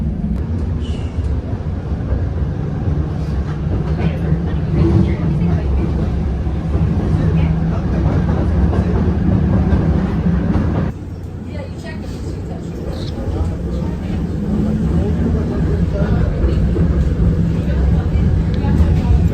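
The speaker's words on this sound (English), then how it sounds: "This is my first time on one of these trains." A steady, dense rumble of a passenger train in California rolling along rails, heard from on board, loud and continuous throughout, with a brief dip midway before the clatter resumes.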